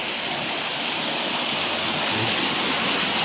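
Steady, rushing flow of cold spring water close by at an outdoor rinsing and laundry spot, a continuous broadband hiss with no pauses and no voices.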